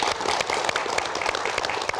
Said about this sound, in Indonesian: Masya Allah, tepuk tangan dong.